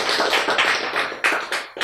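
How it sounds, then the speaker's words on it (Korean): A short run of distinct, close claps during a lecture, about half a dozen sharp hits in a loose rhythm with no talking over them. "그렇죠, 박수."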